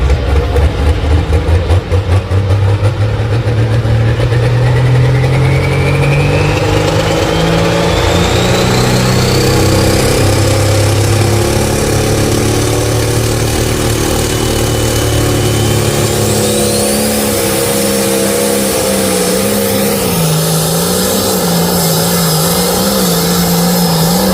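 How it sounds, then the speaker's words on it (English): A Limited Pro Stock tractor engine at a tractor pull revs and strains loudly and continuously, its pitch climbing and shifting as it labors under load, close by and alone without voices. "you look at that little tractor motor, that thing's like a baby"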